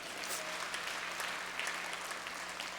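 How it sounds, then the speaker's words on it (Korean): Congregation at a Christmas church service applauding together, a steady wash of claps held at a distance and fairly quiet, with no talk over it. "박수 한번 해주시다"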